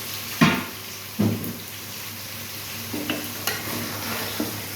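Cucumbers being lightly sautéed with fish in a pan, with a quiet sizzle under a few sharp spatula scrapes and clanks, close up and without speech.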